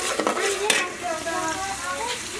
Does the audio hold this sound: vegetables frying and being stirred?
yes